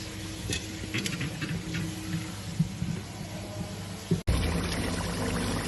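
Water from a pot of boiled potatoes is poured off and drained in a home kitchen, with a steady splashing patter at moderate volume, a few small clinks, and a sharp knock near the end.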